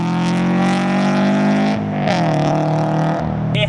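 A Toyota GT86 fitted with Tomei titanium headers growls loudly up close, its engine note holding steady, then dipping and rising again as the revs shift.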